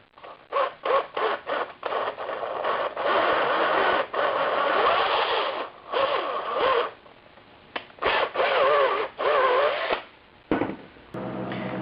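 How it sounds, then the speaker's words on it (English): A hand reamer works a mounting bolt hole out in a bracket for a Vintage Air Gen II Compac HVAC install on a 1976 Mazda RX-5 Cosmo, producing loud, rasping scraping strokes in bursts with short pauses between. "The mounting bolt just barely doesn't fit, so I have to very carefully ream this hole out"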